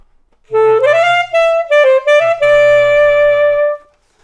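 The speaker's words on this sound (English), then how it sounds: "If we sing and play at the same time, we get what's called a growl sound" A saxophone plays a few sustained notes with a rough, buzzing growl from a voice humming into the horn, close and loud.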